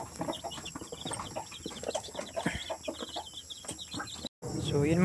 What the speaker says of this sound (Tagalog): at napakain na po natin yung alaga natin mga manok